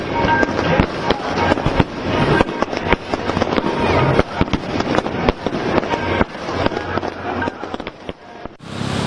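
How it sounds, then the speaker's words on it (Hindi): Dense, continuous crackling and popping of fireworks, loud bursts tumbling over one another with a faint murmur of voices underneath. "लॉकडाउन के बाद से आज पहली बार यहाँ आतिशबाजी हुई।"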